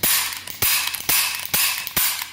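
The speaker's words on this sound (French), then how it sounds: "Rien qu'en entendant le bruit de la percussion" Dry-fire strikes of a Walther PK380 pistol in .380 ACP, five sharp mechanical clicks at even intervals, each followed by a brief rattling decay, close and clear with no talking.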